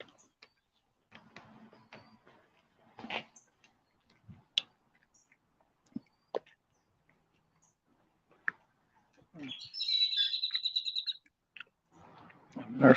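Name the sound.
blackbird calling outdoors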